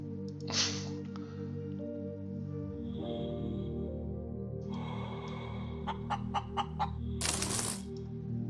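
A chicken in the space-survival game Breathedge clucks and squawks in a few short, close bursts over a low, humming game ambience, with sharp clicks scattered between them.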